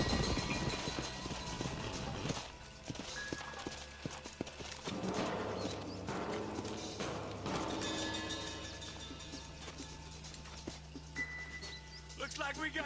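Horses clip-clop steadily on the ground in the Red Dead Redemption video game, with a neigh and background game sounds.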